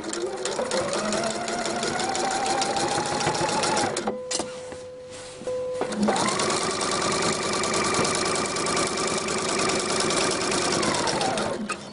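Sewing machine running a long steady stitch around a V-shaped rib-knit neckline, a high even whir that pauses briefly with the needle down, then resumes and runs on without talk.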